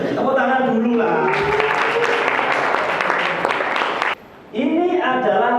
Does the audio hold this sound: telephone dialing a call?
no